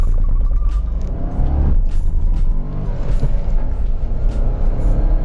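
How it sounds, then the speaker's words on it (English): A 2021 Nissan Magnite turbo engine pulls hard toward 3000 RPM with traction control off, a loud, close, continuous rumbling drone that rises in pitch and includes faint clicks and road noise. "Driving it to the 3000 RPM mark"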